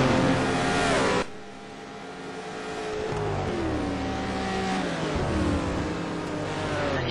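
Race cars on the Suzuka circuit: a loud engine roar cuts off sharply, then a fresh engine note rises and holds, swelling and shifting pitch as cars accelerate past at a distance.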